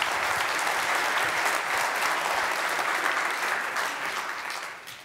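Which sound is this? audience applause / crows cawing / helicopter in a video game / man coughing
audience applause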